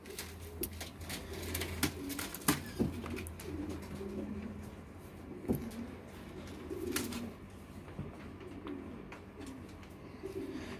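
Pigeons coo softly from inside a shipping box, low repeated throaty calls at close range with faint handling knocks and no talk.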